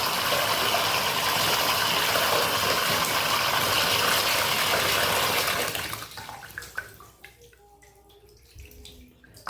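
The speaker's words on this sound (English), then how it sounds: "You want to keep rinsing this until the water's clear" Water runs steadily and loudly from a tap for several seconds, rinsing an air filter, then cuts off, leaving scattered drips and small splashes.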